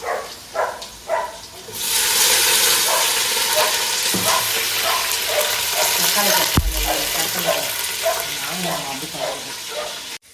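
Masala sautéing in oil for chicken biryani: a few quiet clinks, then a sudden loud, sustained sizzle with stirring scrapes and a sharp knock partway through, speech faintly present underneath.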